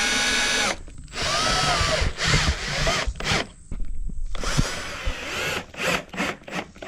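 A power tool removes a factory bolt from a Kemimoto fender flare on an X3. It gives several close, loud whirring bursts, each broken by brief pauses, with no talk.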